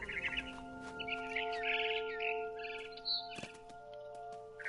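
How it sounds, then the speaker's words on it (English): A barn swallow in the game What Remains of Edith Finch gives bright, rapid chirps and twittering over a steady tonal music bed, with a sharper burst of calls near the end. "It was a barn swallow going back to her nest."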